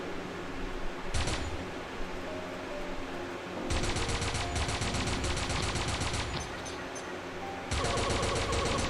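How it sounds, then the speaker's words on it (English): Rapid bursts of automatic rifle fire crackle in Pixel Gun 3D on the Arabian Dust map, one short burst early and then two long sustained volleys with a brief pause between them, loud and with no talking. "That's the fucking rifle. That's fast death."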